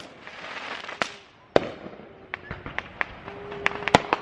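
Fourth of July fireworks going off around a neighborhood: scattered pops and sharp cracks at varying distances, some close and loud, others faint, with a rumbling background of distant bursts.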